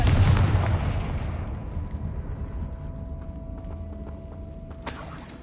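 Confringo blasting spell in the wizarding game Hogwarts Legacy, a booming explosive blast that rumbles and slowly fades into a low tail, followed near the end by a brief bright burst.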